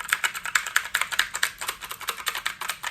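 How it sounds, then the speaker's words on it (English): Typing on a computer keyboard at close range: quick, irregular bursts of crisp key clicks with short pauses between runs, alone without talk. "But I love typing on my keyboard here."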